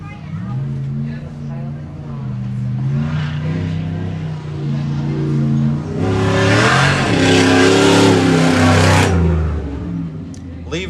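Off-road race car at the High Desert 100 desert race roars past with rising and falling engine revs, loud and near, building to a harsh peak as it passes, with announcer-style talk over it.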